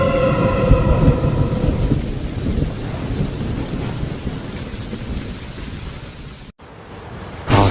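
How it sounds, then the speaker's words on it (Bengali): A cartoon-style thunderstorm sound effect of a monsoon night, with heavy steady rain and rolling thunder rumbling loudly up front, then a sudden brief cut before the downpour returns. "আষাঢ় মাস, ঝড় আসে।"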